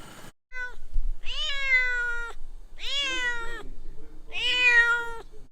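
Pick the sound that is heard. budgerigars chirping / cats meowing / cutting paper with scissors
cats meowing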